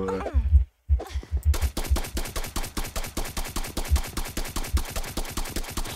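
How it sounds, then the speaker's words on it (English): Rapid crackling bursts of fireworks exploding in a video game, a dense fast rhythmic string of sharp pops after a brief gap, loud and continuous like gunfire. "It's fireworks."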